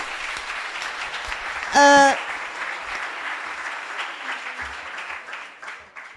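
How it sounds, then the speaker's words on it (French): Audience applause after a startup pitch at a French pitch night, steady clapping throughout with a brief loud burst of whooping and a tonal cheer near the start, fading slightly toward the end. "On t'applaudit, merci mec, merci."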